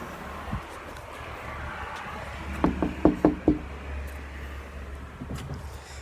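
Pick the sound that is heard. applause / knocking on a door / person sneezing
knocking on a door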